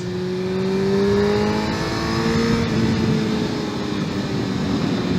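A Yamaha MT-09 motorcycle engine pulls hard under acceleration on a ride, its loud, close exhaust note climbing in pitch through the gears with steady wind noise, and no talking.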